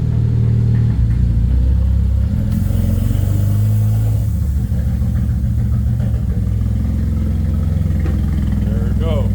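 A freshly rebuilt car engine runs loud and close with a rough, uneven low rumble that surges and wavers, with voices talking over it.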